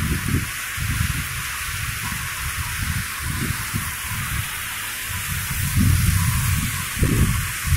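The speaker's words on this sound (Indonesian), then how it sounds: "Hujan beserta angin kencang." Heavy, steady rain in Banda Aceh, Indonesia, with gusty, rumbling low-end bursts, suggesting strong wind; the downpour hisses continuously throughout with no voices.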